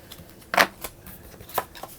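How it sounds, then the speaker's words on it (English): Playing cards from the board game Keep the Heroes Out are being shuffled, giving a few brief papery riffles and flutters close by. One burst is stronger than the rest, with quiet gaps between them. "now we're going to shuffle it up"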